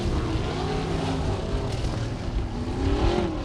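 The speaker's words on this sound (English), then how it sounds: "The 1 of Williams checks it down and turns the car down to the bottom side of turn number 4." Sprint cars from the URSS Sprint Division race around the dirt oval at RPM Speedway, a steady droning engine roar heard from a distance that holds for several seconds with no break.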